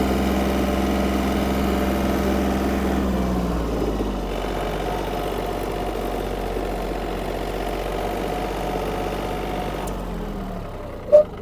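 A Yanmar F-200 mini tractor engine runs steadily at idle, a low droning hum with a slight shift in pitch partway through, ending in a brief sharp click.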